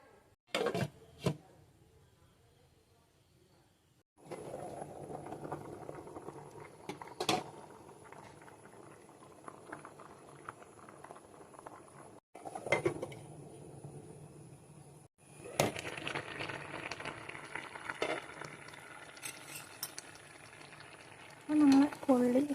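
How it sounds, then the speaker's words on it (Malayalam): Tapioca boiling in water: a soft, steady bubbling and gurgling from a pot, broken by occasional clanks and a few abrupt pauses. "ഇനി നമുക്കിതൊന്ന് വേവിച്ചെടുക്കാം"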